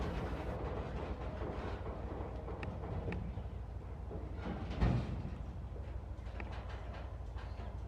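Freight train in Salisbury, North Carolina slowly shoving back onto the main line, a low steady rumble with soft rail clanks and a single louder thump midway, heard from nearby.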